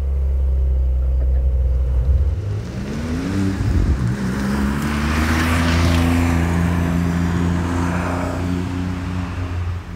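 A manual-transmission Porsche 911 Carrera GTS Cabriolet of the 992 generation pulls away, its engine note rising as it revs up through a gear, loud and close with a steady deep rumble throughout.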